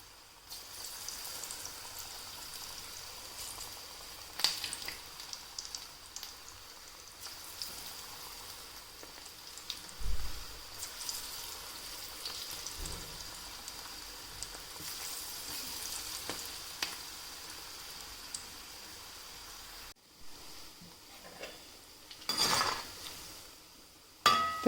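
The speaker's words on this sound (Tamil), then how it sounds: "இந்த பால்ஸ் எல்லாம் எண்ணெயில் போட்டுக்கோங்க" Masala urandai vada balls deep-frying in oil over a medium flame, with a constant soft crackling sizzle that sounds like light rain and a few clinks and bumps along the way.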